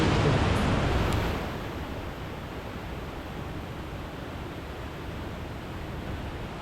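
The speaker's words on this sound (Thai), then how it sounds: "ที่สวนเนี่ยไม่ว่าจะเดินไปมุมไหนก็จะเจอน้ำตกสวยๆ นะครับ" Water pours at a garden waterfall and stream in Pyin Oo Lwin, Myanmar, a steady, dense rushing hiss that is slightly louder for the first second and then stays even and close throughout.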